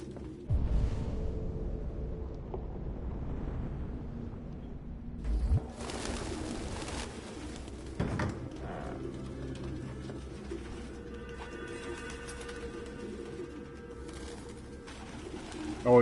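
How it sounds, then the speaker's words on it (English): Pigeons coo repeatedly in the game Detroit: Become Human, soft low calls recurring over a steady ambient background with occasional rustling and mechanical noise. "Excuse me, pigeons?"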